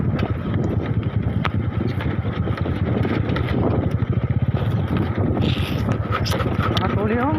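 A rattling, shaky motorcycle engine putters steadily up close with a rapid uneven pulse and wind buffeting the microphone, while people talk over it.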